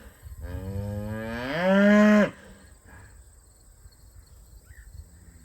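A cow gives one long, loud moo on open pasture, rising in pitch before cutting off, followed by quiet field ambience with faint insect chirps.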